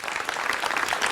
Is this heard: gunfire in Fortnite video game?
no